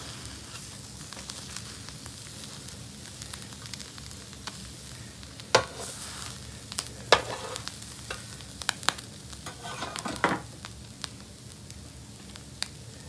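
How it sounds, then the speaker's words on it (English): A Reuben sandwich fries and browns in a pan with a steady close sizzle, and sharper crackles and pops burst through now and then. "We're gonna let it go a couple more minutes before we turn this sandwich over to make sure that this side gets a little bit more browned."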